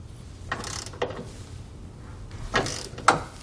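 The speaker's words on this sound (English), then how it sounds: "come back with a torque wrench and tighten it all down" Ratcheting clicks of a torque wrench snugging down TorkLift tie-down hardware on a 2020 GMC Sierra 2500 truck, two or three short bursts of metallic clicking separated by pauses, close and fairly quiet.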